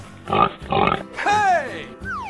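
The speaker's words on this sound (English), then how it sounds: "Pig." Voices call out over a cartoonish video game pig sound, with snorty bursts followed by swooping squeals, loud and close, like a toy pig oinking.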